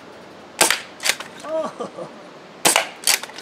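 An NFStrike foam dart blaster fires four sharp, snappy shots spaced across a few seconds, close and loud, with a brief spoken word in between.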